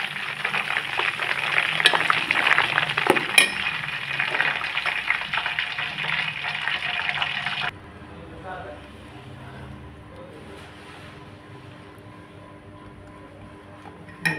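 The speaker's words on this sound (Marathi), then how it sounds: "उतरलं तरी अजून उकळतंय." Homemade ghee, already off the heat and set on the floor, keeps bubbling and crackling; a bright, busy sizzle dominates the first half, then drops to a faint, soft simmer.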